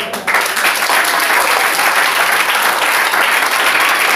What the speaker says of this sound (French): Pourquoi celle-là applaudit?